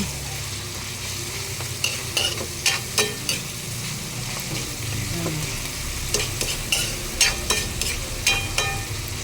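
Chopped tomatoes sautéing in a pan, with steady sizzling and repeated sharp scrapes and clinks of a spatula stirring against the metal, close and fairly loud without talk.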